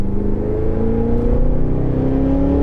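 Supercharged V8 exhaust of a 2023 Cadillac Escalade V revving while parked, a loud, close, deep muscular drone holding steady with rising harmonic tones.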